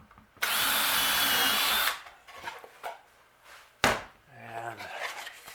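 Power drill boring countersunk hanging holes in a wooden bluebird house, one loud steady whir of about a second and a half, then quieter handling clatter and a sharp knock.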